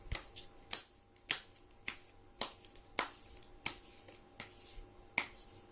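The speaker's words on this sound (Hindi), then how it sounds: "एक और कार्ड निकालेंगे बस कंफर्मेशन के लिए" Tarot cards drawn and flicked from a deck, a quick run of sharp, close papery snaps and shuffles repeating roughly every half second, with no talking.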